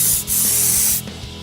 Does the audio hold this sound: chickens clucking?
no